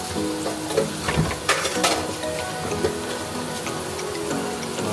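A mash of taro leaves and shrimp fries in a pan as a little sugar is added, a soft sizzle broken by several sharp scraping strokes of stirring.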